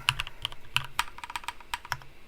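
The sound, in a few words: typing on a KBDFans D45 mechanical keyboard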